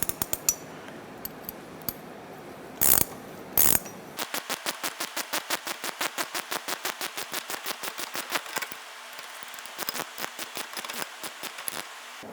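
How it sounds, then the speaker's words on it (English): A hand ratchet with a 1/4 inch wrench tightens the nut on a Kia Soul rear shock absorber held in a vise, giving a long run of steady, close clicks after a couple of brief knocks, with no talking. "I'm going to use my 1/4" wrench at first with my ratchet to tighten this nut in."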